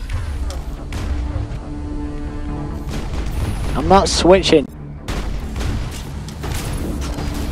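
Gunfire in the Mass Effect video game sounds as dense, booming rapid shots under a steady roar, while a player shouts and talks excitedly over the shooting throughout.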